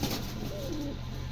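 A pair of Bukhara pigeons, a silver-white-topped male and a silver female, let out a brief, soft, low coo over a steady background hum.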